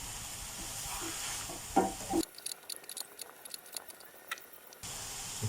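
Onion, fresh shiitake mushrooms, cauliflower and carrot stir-fried with green chili in a pan: soft sizzling and scraping of the utensil, in short uneven bursts of stirring, fairly quiet and close.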